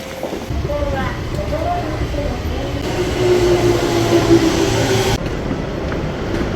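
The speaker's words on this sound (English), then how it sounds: "now I am going to board Eureka Mome train, which is an automatic train" Yurikamome automatic train at Shimbashi station, a continuous rolling rumble and hum that swells mid-clip, heard under a man's speech.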